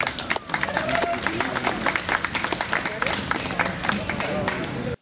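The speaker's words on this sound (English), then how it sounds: "let's give a huge round of applause" Audience applause for a speaker being introduced at a conference on anarchism and agorism, dense steady clapping filling the room from start to finish and cutting off sharply at the end, with cheers mixed in.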